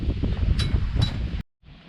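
Wind buffets and roars across the microphone in loud gusts outdoors while solar panels are fitted to an expedition truck, with a brief dropout before quieter rustling resumes.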